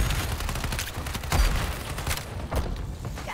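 Video game gunfire on an Xbox Series S, heard as a rapid, dense volley of shots and thumping impacts with a couple of heavier booms, loud and continuous.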